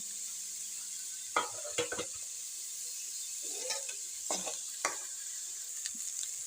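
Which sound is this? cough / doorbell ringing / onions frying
onions frying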